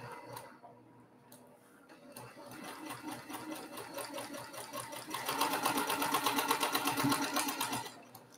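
Sewing machine stitching quilt pieces without pins runs in a steady, close mechanical patter, starting softer with brief pauses and then speeding up into a louder, continuous rapid clatter.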